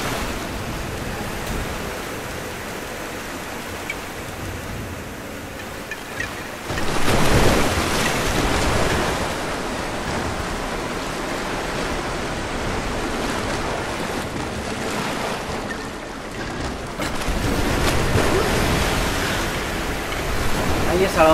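A strong water current pushes the character along in Rise of the Tomb Raider, a continuous roaring wash of surging water with two louder swells partway through, steady and enveloping.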